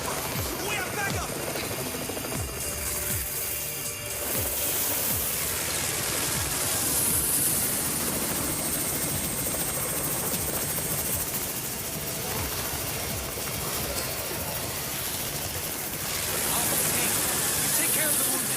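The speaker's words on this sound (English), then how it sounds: "It's Raven's chopper!" A helicopter in the zombie video game Undawn arrives with a loud, steady rotor and engine roar that swells and fades, heavy broadband noise running the whole time.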